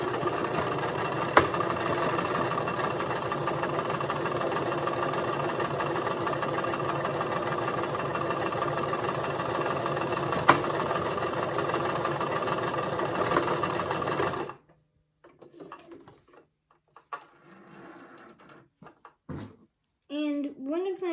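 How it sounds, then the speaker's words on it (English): A sewing machine stitches a stuffed fish in a sewing room, running steadily and fairly loud for about fourteen seconds before stopping, followed by quieter handling sounds and brief talk. "Now that we have it nice and secure, we can start to sew."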